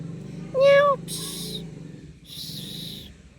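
A cat with an upset stomach gives one close, clear meow, followed by two bursts of soft hissy noise against a quiet background.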